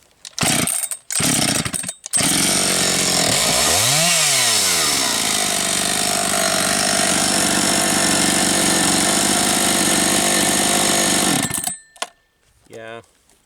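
A Husqvarna 272XP chainsaw, heat soaked, gets a few short starting pulls, then fires up and revs before settling into a long, loud, steady run while cutting firewood, then cuts off abruptly near the end.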